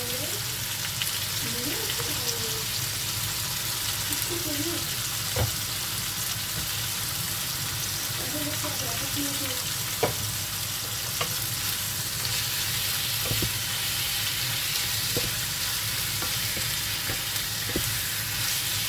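Meat frying in a pan with salt, sweet paprika, pepper and coriander for quick tacos, giving a steady, dense sizzle that runs throughout, close and even, broken by a few faint knocks and stirring sounds.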